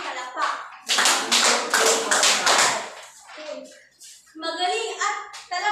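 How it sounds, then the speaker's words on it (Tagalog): A class claps in rhythmic bursts during an afternoon lesson at a teacher-education session, the group applause strong and close, with children's voices talking in the short gaps between the sets of claps. "Ngayon ay bigyan natin sila ng 5 palakpak"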